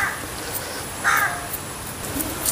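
A crow caws once, loud and close, amid faint outdoor background noise in a home kitchen setting, with a few soft clicks around it.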